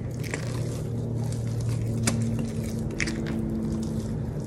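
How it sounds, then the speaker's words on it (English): A spatula scrapes and pushes very thick batter across a skillet, giving soft, squishy, uneven scraping strokes up close with no speech. "we're going to just go in and pour our batter into the skillet and spread it out"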